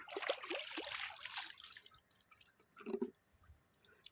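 The Bhavani river, flowing down from the Bhavanisagar dam toward Kodiveri, trickles and gurgles faintly for a couple of seconds, then quiet drips and a small splash follow, heard from a short distance outdoors.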